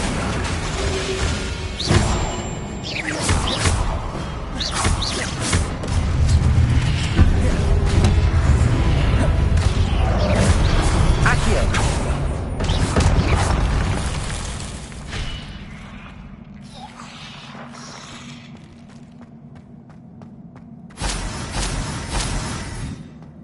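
Fire-blast spell explosions in the game Hogwarts Legacy, a dense run of booming bursts, crashes and whooshes that gradually fades toward quieter ambience with a final burst near the end.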